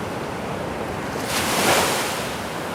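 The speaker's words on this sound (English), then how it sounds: "So you can hear the ocean in the background." Ocean surf washes toward the shore, recorded about a foot above the incoming water, a steady hiss that swells into one breaking wave midway before settling back, with no voices.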